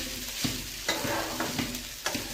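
Maggi noodles cooking in a pan over a steady low sizzle, broken by a few sharp scraping stirs of a utensil against the metal, heard close and alone with no voices.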